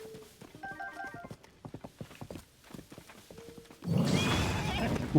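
Horse in Zelda: Tears of the Kingdom with rhythmic clip-clop hooves and a short neigh, then a louder burst of noise as the horse catches fire, moderately close.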